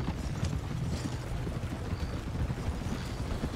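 Horse hooves clip-clop steadily in the Red Dead Redemption video game, a continuous quiet trotting rhythm beneath low game ambience.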